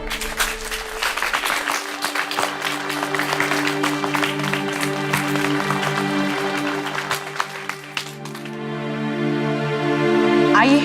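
An audience at an award ceremony claps loudly to welcome the chief guest, with sustained dense clapping throughout and musical tones rising beneath it toward the end.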